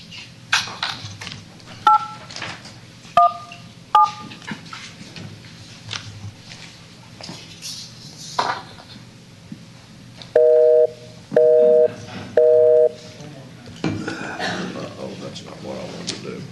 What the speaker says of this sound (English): I will attempt one more time to reach the folks on the phone